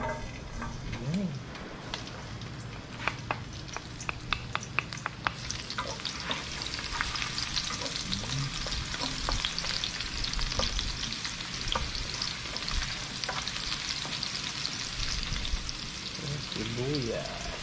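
Garlic sizzles steadily in a hot pan while being stirred, with scattered spatula scrapes and clicks over a continuous crackling hiss; a faint voice surfaces briefly.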